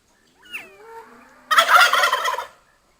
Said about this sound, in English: that's the chickens and the turkeys on the other side